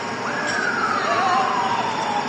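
A single wailing siren from emergency vehicles (fire engines, ambulances or police) arriving at a high-rise apartment fire in Kayseri, a steady sweeping tone heard moderately close over background din.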